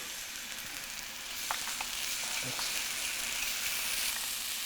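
Garlic dropped into a hot pan of onion for shakshouka, a steady loud sizzle that swells slightly as it goes in, with a few faint stirring taps.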